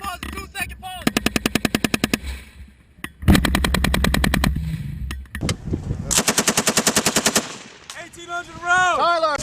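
Machine gun fire during a live-fire military assault exercise by US Marines and Australian Army: sustained bursts of rapid, evenly spaced shots, loud and close, with a heavy blast, pauses between bursts and brief shouted talk between them.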